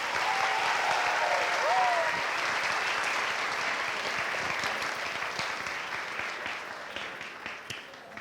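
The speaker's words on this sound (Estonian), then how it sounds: "Teeme ühe aplausi ka talle." Steady audience applause at a Kose Gümnaasium school show in Estonia, a dense wash of many hands clapping that fills the whole stretch and fades slightly toward the end, with a faint voice briefly audible early on.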